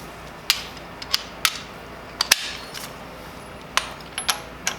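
Socket ratchet turning a wheel lock on a Tesla Model Y, a series of sharp metallic clicks in small irregular bursts, close and clear against a quiet background.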